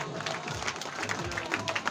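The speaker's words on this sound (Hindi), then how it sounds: "जोरदार ताली को बरकरार एक बार जोरदार ताली" An audience claps loudly at a Nani Bai ro Mayro devotional katha by Shri Sanjay ji Maharaj, with a dense, continuous patter of many hands close by.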